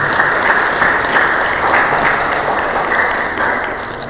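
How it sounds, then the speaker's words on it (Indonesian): A seminar audience gives the speaker a loud, dense round of applause that holds steady and then tapers slightly near the end, with no one talking over it. "Kita berikan tepuk tangan untuk pemateri kita pada sore hari ini."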